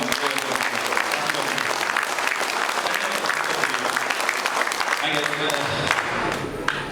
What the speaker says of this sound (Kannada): ನನಗೋಸ್ಕರ ಒಂದು ಚಪ್ಪಾಳೆ ಮಾಡ್ಕೊಂಡು